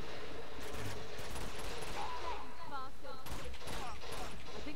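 Gunfire in the video game Uncharted 2: Among Thieves, heard as faint, low, rapid bursts beneath a dense bed of game sound, with faint voices mixed in.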